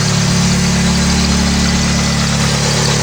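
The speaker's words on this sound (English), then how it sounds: "I'll let it warm up real quick and I'll rev it just a little." A car engine idles steadily just after an alternator bracket install, a close, continuous low rumble with a constant hum and no talking.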